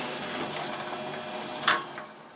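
A capping head machine runs in automatic mode, a steady mechanical whir and hum at moderate level with one short, sharp clack near the end before the sound dies down.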